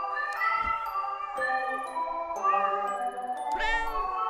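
Several cats in a video game meow one after another with drawn-out, wavering cries, close and clear with no talking.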